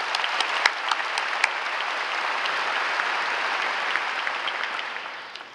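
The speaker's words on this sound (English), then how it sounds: "Let's give them a big round of applause." An audience at a high school graduation applauds steadily for several seconds, a broad wash of many hands with a few sharper close claps, fading at the end.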